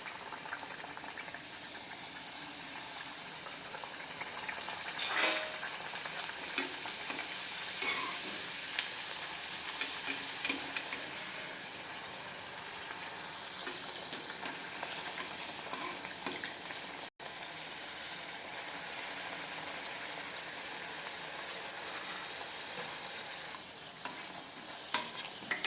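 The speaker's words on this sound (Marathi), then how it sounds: "आता इथं आमचं तेल गरम झालेलं आहे, पुऱ्या तळायला घेऊया" Puris deep-frying in hot oil for spicy masala puri, a steady continuous sizzle and bubbling that runs evenly throughout, close and moderately loud with no talking.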